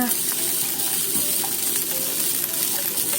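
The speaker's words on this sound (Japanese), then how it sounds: "ナスを焼いている間に" Eggplant fries in a hot pan with sugar added, giving a steady close sizzle with faint crackles throughout and no voices.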